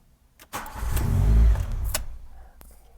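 A 1989 VW GTI MK2 fitted with an aftermarket ignition switch cranks briefly, then its engine catches with a loud, close burst that settles and fades over a couple of seconds.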